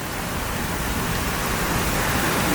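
Heavy rain pours down during a violent thunderstorm, a dense, loud, steady hiss of falling water filling the whole moment with no break.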